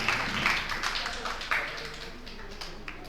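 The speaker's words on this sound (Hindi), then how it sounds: "एक बार जोरदार तालियां आशा जी के सम्मान में।" An audience claps in honour of Asha ji at a Jain religious gathering, a dense, steady patter of many hands that fades slightly toward the end.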